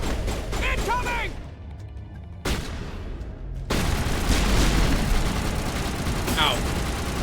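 Video-game explosions and gunfire burst in sudden loud booms with sharp cutoffs, mixed with character voices and clipped effects.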